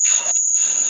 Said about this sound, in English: Oh, crickets outside.